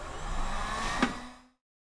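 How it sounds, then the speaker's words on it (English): A heat gun blows hot air into a motorcycle gas tank being dried for sealing, a steady whooshing roar that carries on briefly, then a short click before it cuts off into silence. "we force air fed it as far as with a heat gun or a hair dryer"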